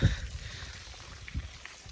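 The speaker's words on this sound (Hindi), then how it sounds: "ये देखें जी, बारिश जो है वो फुल तेज़ चल रही है" Heavy rain falls in a village beside rice fields, a steady broadband hiss with a brief low thump near the start and no voices.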